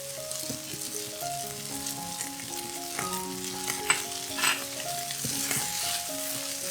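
Tomato ketchup being stir-fried in a wok for vegetarian minced-meat noodles, a steady sizzle with scraping stirs, under a continuous tonal melody of background music.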